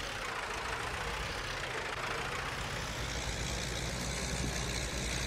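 A Massey Ferguson 285S 4x4 tractor engine idles steadily during a wheat sowing day in the field, a continuous close, loud diesel rumble with a rough mechanical clatter and no pause.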